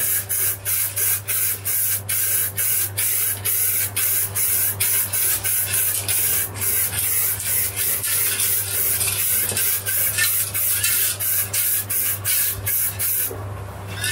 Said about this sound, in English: I'm going to go straight on to clear and try and clear coat it tonight